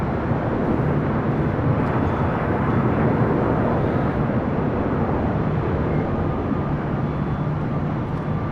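An airliner arriving at LAX produces a steady, broad jet roar that stays fairly constant and moderately loud throughout, with no voices.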